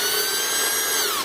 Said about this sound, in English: at this end is an ordinary variable speed drill which drives the